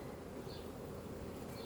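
Agitated honey bees and guard bees hum in a constant, close buzz around a hive being opened, with brief higher whines of individual bees flying past.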